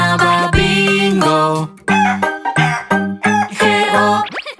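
A children's song in Spanish with a sung chicken imitation: repeated bright, harmonic clucking bursts in a rhythmic pattern, loud and close, voice mimicking the bird over music.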